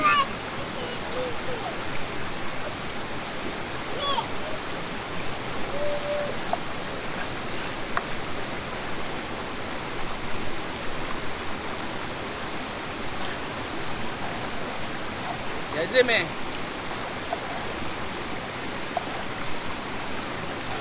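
River water flowing steadily at Vybz River in St. Ann, Jamaica, a continuous broadband rush close by, with a person speaking briefly over it and a few faint knocks.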